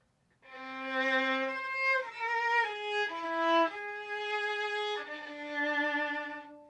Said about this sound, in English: Here's the opening tune in whole tones.